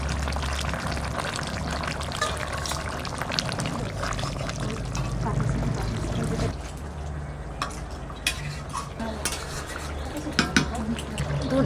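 Fish curry with potatoes being stirred in a pot as coriander leaves and ground garam masala go in, a steady scraping, sloshing stir under a continuous low cooking hum, with intermittent clinks and a voice talking.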